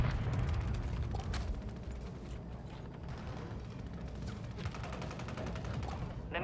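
Remote turret firing in a multiplayer shooter video game, bursts of rapid gunfire in dense clattering volleys with mechanical noise, moderately distant and somewhat muffled.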